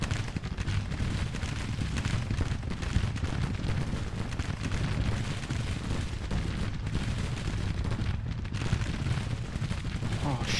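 Battle gunfire from the Civil War strategy game Grand Tactician: Civil War, a dense continuous roar of massed musketry and cannon rumbling steadily throughout with no clear pauses.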